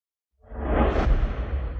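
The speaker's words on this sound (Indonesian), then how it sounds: "Tembakan panah." Arrows shot in a martial-arts drama, a loud broad whoosh that swells in after a short silence and rushes on steadily to the end.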